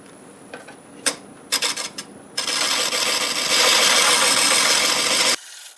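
Skew chisel cutting a segmented wooden donut torus spinning on a lathe: a few brief scraping touches, then a steady, loud rasping cut lasting a few seconds before it stops abruptly.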